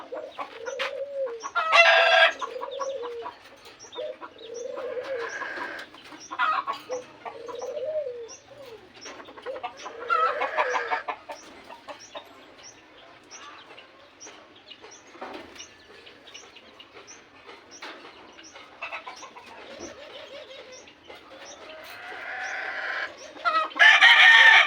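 Rooster and hens in a Filipino backyard, with repeated cock-a-doodle-doo crows rising over steady clucking and other bird calls, moderately loud and close throughout.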